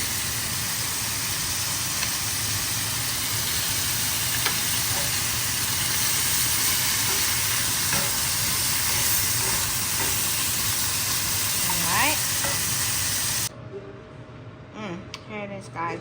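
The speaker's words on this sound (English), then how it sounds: "Sauteing it up. We're gonna probably put one more slab of butter." Steak sautéing in butter in a pan gives a steady, fairly faint sizzle under a low background hum, cutting off abruptly near the end into quieter clatter.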